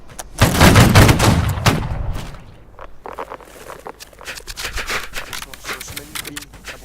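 Artillery and gunfire in a video game: a loud burst of blasts up front, then a scatter of sharper shots and impacts further off, with people talking over the action.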